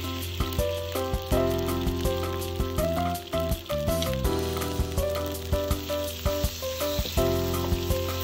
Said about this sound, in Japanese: フライパンにダチョウ肉を加えます。